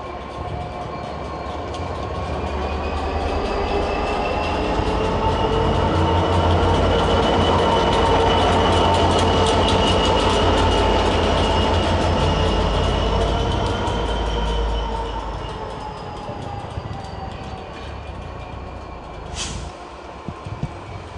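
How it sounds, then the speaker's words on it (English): A London Overground train arrives at West Hampstead, its steady rumble and rolling wheel noise swelling to a loud peak and then easing as it draws in and slows, with a faint squeal of brakes near the end. "another London Overground service towards Stratford"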